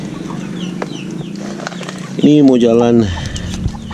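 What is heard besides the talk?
chickens clucking, Indio Gigante and KOB breeds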